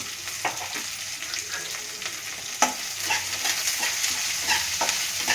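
Thick-sliced onions and a spoon of fennel seeds frying in a pan, a steady crackling sizzle broken by a few sharp scrapes and clacks of a spoon stirring.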